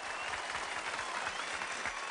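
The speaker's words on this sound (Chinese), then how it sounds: "还是为我们的红队家庭鼓鼓掌" Brief, steady applause from a studio audience at a children's family quiz show, dense hand-clapping filling the whole moment at moderate level with no voices on top.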